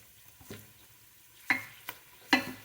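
Chili sautéing in a pan of spaghetti sauce, with a soft low sizzle broken by a few sharp scraping stirs, close and quiet.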